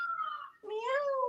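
A person imitates a cat, giving two drawn-out, close, quiet meow-like vocal tones in a row, the second rising and then falling in pitch.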